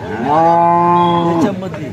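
A Holstein Friesian (HF) cow at a cattle market gives one loud, drawn-out moo lasting over a second, close to the recorder, rising and then falling away at the end.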